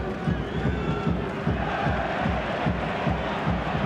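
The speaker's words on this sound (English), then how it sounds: "an extra chorus of booing for him when he touches it" A football stadium crowd at a play-off semi-final between Blackpool and Nottingham Forest gives a sustained, rumbling chorus of booing aimed at a former Preston player, steady and loud across the whole stretch.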